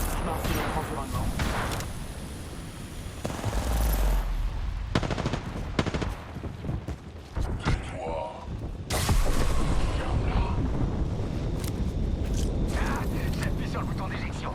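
Gunfire from the battle royale game Apex Legends, with rapid automatic bursts and booms that come and go throughout under a player's steady French commentary.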